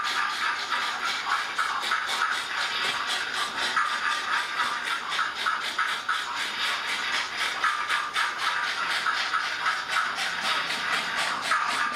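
Model railway steam locomotive with DCC digital sound chuffing steadily, a continuous close hissing, rhythmic exhaust beat with mechanical rattling that holds at an even level throughout.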